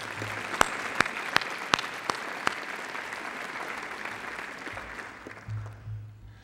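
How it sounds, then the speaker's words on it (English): A round of applause for a college's facility staff at a State of the College address fills the room, a steady wash of clapping with a few sharp, close claps standing out before it tapers off at the end. "Please join me in giving them a round of applause."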